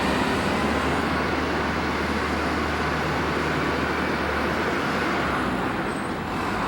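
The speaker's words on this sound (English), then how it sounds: "our bulldozer is doing some last-minute track work" A bulldozer grooms the dirt floor of a 1993 indoor motocross track in Marion, Ohio, with a steady, loud engine rumble droning on without a break.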